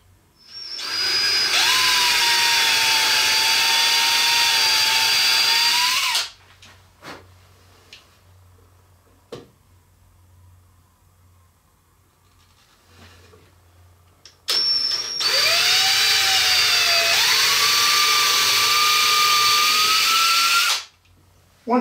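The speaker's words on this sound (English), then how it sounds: "I want to drill a 1/4-inch hole," A power drill bores 1/4-inch holes into wood uprights in two loud bursts, each whining up in pitch as the bit cuts, with quiet shop pauses and faint clicks in between.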